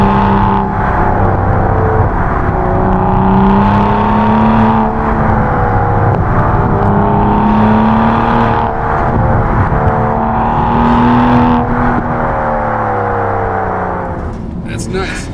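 A modified BMW E90 335i pulls hard at full throttle, its engine droning loud and close as the revs rise and drop through several quick gear shifts, with someone talking over it throughout.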